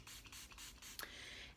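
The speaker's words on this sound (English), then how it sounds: "I'm just gonna dampen this beauty blender with this Milani Make It Last setting spray" Milani Make It Last setting spray misted onto a beauty blender: a few short, soft hissing spritzes close by, followed by a sharper tap and a lingering quiet hiss.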